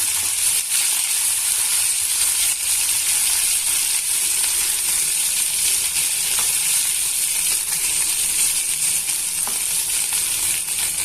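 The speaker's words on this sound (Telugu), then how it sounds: "ఈ పెనం ఐరన్ పెనం అండి ఐరన్ పెనంలో నేను బెండకాయ వేసుకుని ప్రిపేర్ చేస్తున్నాను" Sliced okra fries over a medium flame in a seasoned iron pan, giving a loud, unbroken, even hiss of oil with faint scattered crackles throughout.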